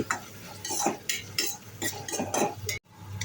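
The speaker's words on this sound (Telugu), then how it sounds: "ఆయిల్ వేడైన తర్వాత తేజ్పత్త సన్నగా కట్ చేసుకున్న ఉల్లిగడ్డలు ఉల్లిగడ్డలను బాగా వేయించుకోవాలి" Sliced onions and bay leaf frying in hot oil for paneer masala, stirred with a utensil that scrapes and clinks against the pan in bursts over a steady low sizzle, close and fairly loud, with a brief dropout near the end.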